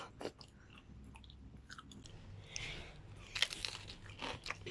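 Crispy oven-grilled marinated pork skin is chewed up close, with quiet, irregular crunches and crackles that come in short bursts and sharpen near the end.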